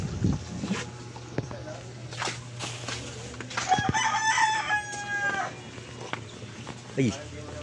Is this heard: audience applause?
no